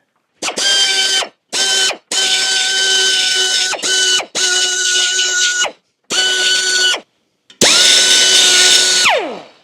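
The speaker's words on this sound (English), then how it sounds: "I'm just gonna clean these eyes with the die grinder with the carbide burr" A die grinder fitted with a carbide burr cleans rust from the eyes of rear leaf springs on a Scout 800, whining in seven close, loud bursts of a few seconds each; the last burst winds down in pitch as the tool spins to a stop.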